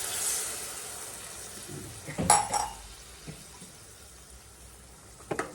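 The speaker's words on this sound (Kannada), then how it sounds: "ಸ್ವಲ್ಪ ನೀರು ಹಾಕ್ಬೇಕು, ಸ್ವಲ್ಪ ಅಲ್ಲ ತುಂಬ ಹಾಕ್ಬೇಕು" Water goes into a pot of simmering potato gravy with a brief splashing pour, amid soft background sizzle and a few clinks of a utensil against the pan.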